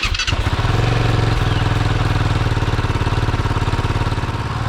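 A Kove 450 Rally motorcycle engine cranks and catches, then settles into a steady, loud, close idle with an even rapid pulsing beat, heard alone without talk.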